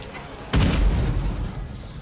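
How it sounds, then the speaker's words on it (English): A single grenade detonates in a video game, a sudden loud boom with a low rumbling tail that fades over the following second and a half. "Another grenade."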